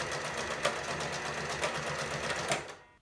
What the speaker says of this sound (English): we're going to stop our sewing right here at this edge and reinforce it